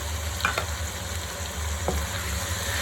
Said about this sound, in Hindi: अब मैं चिकन के साथ इसकी भुनाई करूँगी अच्छी तरह से।